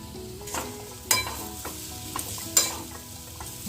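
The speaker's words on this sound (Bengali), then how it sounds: "আমার পুরটা বানানো হয়ে গেছে এখন গরম মশলা দিয়ে নামিয়ে নেবো" Banana flower chop filling frying in a pan, finished with garam masala, with repeated spatula stirs and scrapes against the pan over a steady sizzle, close up and free of speech.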